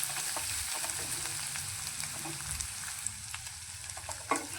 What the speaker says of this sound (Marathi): खोबरे लसूण कोथिंबीर बारीक केलेलं चांगलं फ्राय करून घेऊया तेलामध्ये